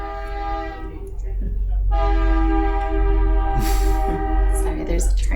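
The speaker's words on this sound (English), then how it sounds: "Sorry, there's a train here." A train passes close by, its horn sounding in long sustained harmonic blasts over the rumble of rail cars, loud and continuous throughout.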